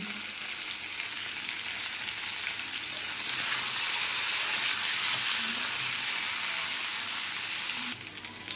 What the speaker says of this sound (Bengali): এগুলো একসাথে এবার ভেজে নেব। দিয়ে দেবো অল্প নুন।